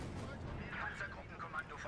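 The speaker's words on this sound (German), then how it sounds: "wenn eure Artillerie da drauf knallt" Artillery fire in the Company of Heroes 2 video game, a rumbling barrage of booming blasts rolling under a dense battle din, with a voice talking over it.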